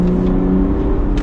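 A sporty two-seater car engine revs in standard mode, a steady, loud tone with strong low harmonics held close for about a second, with no talking.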